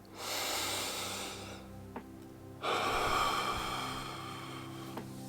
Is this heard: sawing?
no